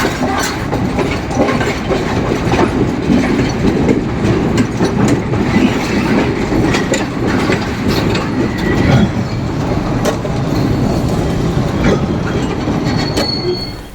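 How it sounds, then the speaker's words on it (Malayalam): A train passes close by in Sri Lanka, a loud continuous rumble with rhythmic clickety-clack from the wheels and a brief squeal toward the end. "ഒരു ട്രെയിന് പോകുന്നുണ്ട്."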